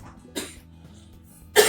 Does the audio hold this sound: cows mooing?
no